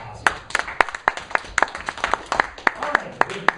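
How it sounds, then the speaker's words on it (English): Sparse clapping follows a vacuum science demonstration with a small pump, a thin scattering of distinct hand claps from a few people, uneven and close. "How about a round of applause?"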